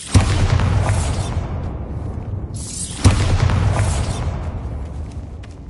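Two heavy booming blasts from the Bombarda explosion spell in Hogwarts Legacy, each a sharp loud impact trailing into a long rumbling decay, spaced about three seconds apart.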